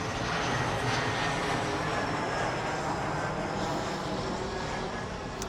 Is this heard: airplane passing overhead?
yes